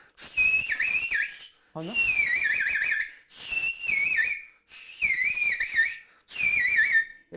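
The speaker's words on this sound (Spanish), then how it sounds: "Esto es un silbo de pastor." A shrill warbling shepherd's whistle, made from a piece of tile, plays in five short trilling phrases separated by brief pauses, close and loud; a voice murmurs briefly.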